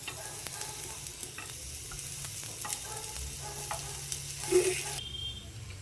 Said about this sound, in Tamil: இந்த உருளைக்கிழங்கு பீஸை வந்து நம்ம லைட்டாக வச்சு திருப்பி திருப்பி விட்டு